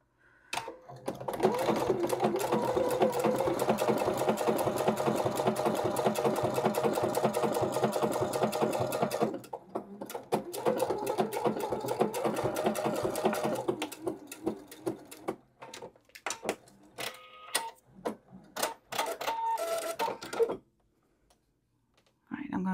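A sewing machine runs a blanket stitch to join English paper pieced quilt patches, buzzing steadily through two long runs. It ends in shorter bursts with pauses, and a voice speaks at times.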